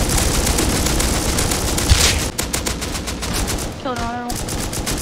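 An AK automatic rifle fires in the video game Rust in loud, rapid, continuous bursts, with the quick shots running together into a dense rattling roar that continues throughout.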